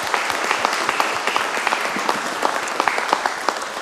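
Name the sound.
audience applause for presenters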